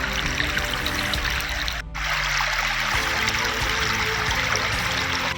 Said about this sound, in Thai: น้ำไหลเชี่ยวไหลซัดขนาดเลย